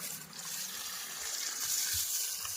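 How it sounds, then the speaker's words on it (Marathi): Water is poured over dried-out garden plants, a steady gushing splash lasting throughout, fairly close and moderately loud with no talking. "कपडे धुवायच्या अगोदर पाणीच घालून घ्यावं झाडांना"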